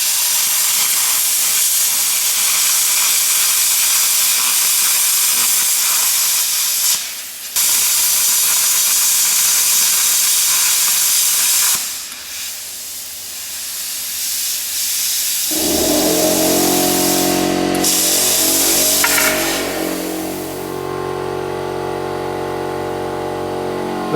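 A Longevity Force Cut 40D plasma cutter slicing through metal gives a loud, steady harsh hiss with brief breaks, then shifts to a lower rushing air flow as the torch keeps running after the cut, no talking.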